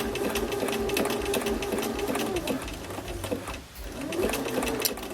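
A sewing machine zigzag-stitches fabric for an Agnes dress, running at a steady whirring rhythm close by and briefly slowing and pausing before starting again.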